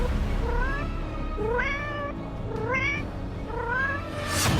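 A cat meows repeatedly, about four rising and falling calls spaced roughly a second apart, close and clear over a steady low background hum.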